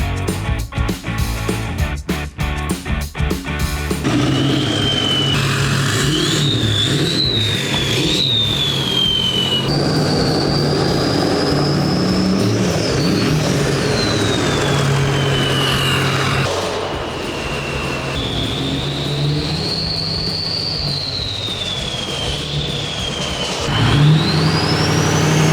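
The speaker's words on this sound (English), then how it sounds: "A Stage 3 10-blade Jetfire KC Turbo. We're about to do this dyno." A 6.0 Powerstroke diesel truck with a Stage 3 10-blade Jetfire KC turbo runs hard on a dyno, its loud engine roar joined by a rising, sweeping turbo whistle that climbs and falls across repeated pulls.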